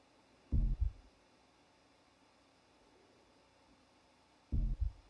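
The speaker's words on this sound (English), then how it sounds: "So I've got a kick drum and the heartbeat." Kick drum layered with a heartbeat sample in a music mix, heard as two isolated double-thump beats, boom-boom, about four seconds apart, deep and punchy over a quiet hum.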